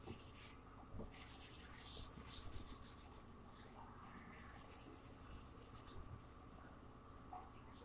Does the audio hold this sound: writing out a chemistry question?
yes